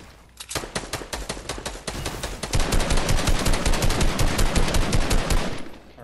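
Rapid automatic gunfire while shooting at an opponent in a video game, a long loud continuous stream of shots that grows denser and heavier after a short opening burst.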